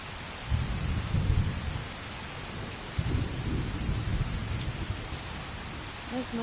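Steady rain patters over rumbling thunder in Skyrim gameplay, with low rolling booms recurring every few seconds beneath a constant hiss of falling water during a stormy stretch of the game.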